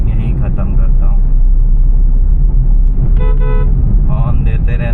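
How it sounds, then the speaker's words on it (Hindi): A car horn sounds in short honks, a brief cluster at the start and two more toward the end, cutting through the low rumble of a car moving in city traffic during a driving lesson. "हॉर्न देते रहना है।"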